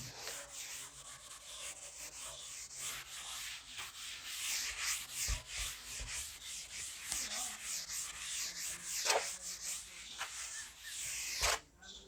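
Steady rubbing of a board being wiped clean, a continuous dry scrubbing close by with strokes rising and falling in a fairly even rhythm, ending with a brief louder scrape.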